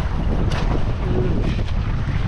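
Strong wind at sea sweeps steadily across the microphone in a loud, constant roar, with faint water and boat motion underneath and no voices.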